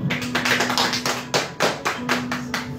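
A church congregation claps at a communion service, a dense wash of hands striking together in uneven bursts across the room, rising and falling with a faint sustained tone underneath.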